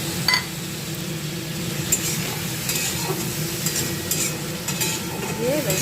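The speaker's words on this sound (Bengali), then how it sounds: "দিয়ে একটু ভালো করে কষবো, কষে ঢাকা চাপা দিয়ে দেবো" Cauliflower and potato sauté in a pan, giving a continuous close sizzle with stirring scrapes and light clinks of utensil on metal throughout.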